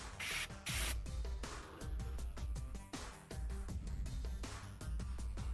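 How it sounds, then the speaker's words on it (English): An airbrush sprays and splatters mud onto a model display base, the hissing bursts of air coming in short uneven pulses, close and fairly loud, with no voices. "I'm going to use the airbrush"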